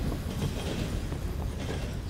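A train rumbles along steadily in Call of Duty: WW2, a continuous low, dense roar with no distinct clacks.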